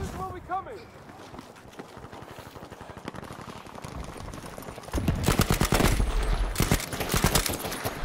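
Rapid bursts of suppressing gunfire from Battlefield V's Pacific war setting swell into sustained, loud automatic fire in the second half, after quieter rattling, with a voice speaking early on.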